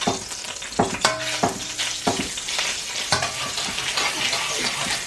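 Garlic frying in a pan, with a sizzling hiss broken by several sharp clanks and stirring scrapes over about five seconds, close and fairly loud.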